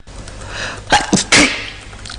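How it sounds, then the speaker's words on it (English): A single loud sneeze with a sharp inhaled buildup, followed by a quieter trailing breath in a quiet room. "Here is sneeze 1 coming out from door number 1."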